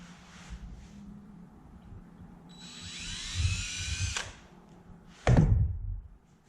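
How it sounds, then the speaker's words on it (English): A power drill with a number 30 bit whines up in pitch for a couple of seconds, clearing burrs from a rivet hole in an aircraft wing spar, then stops, followed by a sharp knock and clatter, close by. "I'm actually going to grab a number 30 drill bit"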